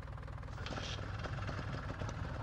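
A motorcycle engine in Farming Simulator 19 turns over, then runs with a low, steady, rumbling idle and faint mechanical knocking, close and continuous.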